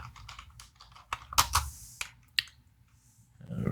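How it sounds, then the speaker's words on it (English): Typing on a computer keyboard during a programming session, with irregular bursts of sharp key clicks and a few louder keystrokes standing out, fairly faint and close, with no talking. "I'm typing without looking at the keyboards"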